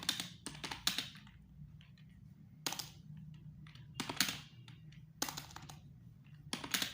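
Bursts of typing on a computer keyboard with several faulty keys, close and crisp, in quick clusters of clacks separated by short pauses over a low steady hum.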